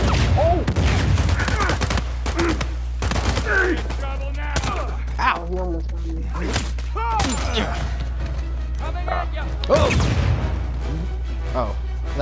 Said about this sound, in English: Oh, that was our grenade.